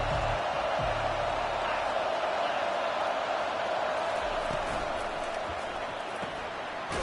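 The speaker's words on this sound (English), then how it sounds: "This crowd bringing an ear-splitting welcome to their visitors." A stadium crowd at a college football game between Ohio State and Georgia gives a loud, sustained roar of cheering and shouting, a dense wash of noise with a few faint announcer-like voices under it.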